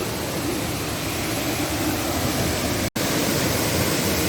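The Seven Colours Waterfall in Bueng Kan, Thailand, roars as a loud, steady wash of rushing water, broad and unbroken apart from one momentary dropout, with no voices.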